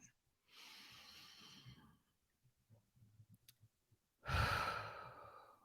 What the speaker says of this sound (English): So all you have to do is just take a deep breath.